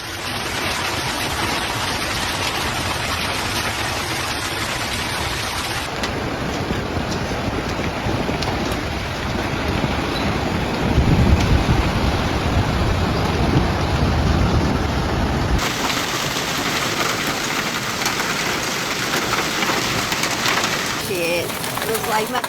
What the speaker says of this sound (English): Heavy rain marked the beginning of the storm's escalation.